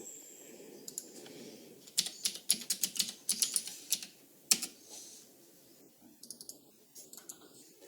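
Keys clatter on a computer keyboard while someone writes Python code, a few scattered taps at first, then a quick burst of close, crisp keystrokes before a pause and a final short flurry.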